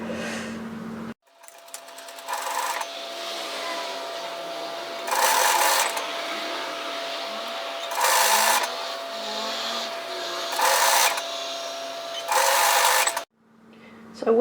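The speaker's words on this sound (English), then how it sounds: "So stitch through that overlocking line." A sewing machine stitches through an overlocked seam on a tiered dress, running in several loud, even bursts of a few seconds each, separated by brief pauses and quieter handling, close up.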